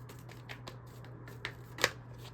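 Tarot cards are shuffled and handled in a run of soft, quiet riffles and taps, with one crisper snap near the end, over a steady low hum.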